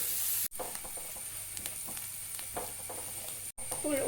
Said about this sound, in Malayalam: ഒരു സവാള ചേർത്ത് കൊടുക്കാം കേട്ടോ നമുക്കൊന്ന് ആദ്യം നല്ല നല്ലതുപോലെ വഴറ്റിയെടുക്കാം